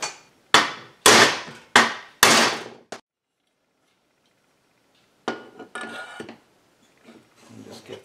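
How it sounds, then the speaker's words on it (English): A hammer taps a chainsaw bar stud into a Husqvarna or Stihl crankcase with five quick, sharp metallic strikes close to the mic. After a pause, softer clattering and handling noises follow. "I'm going to tap that bar stud through to make sure it's seated."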